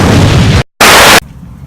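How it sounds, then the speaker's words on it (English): Two loud, sharp explosions in a video game, the first a sustained rumbling blast that cuts to silence, then a shorter burst before quieter background noise returns. "What's with the explosions?"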